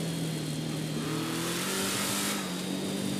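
Car engine in GTA 5 boosting on the way to Mount Chiliad, a steady loud mid-pitched drone with rising tonal whine held throughout, no talking.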